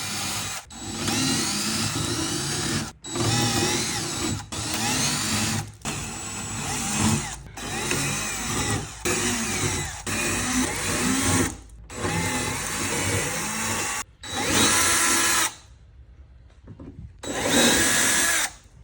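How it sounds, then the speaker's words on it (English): A power drill bores holes in a 2024 Mustang GT hood, a close, loud whirring that runs in repeated bursts of a second or two, broken by short pauses and one longer quiet gap. "take your time drilling the holes"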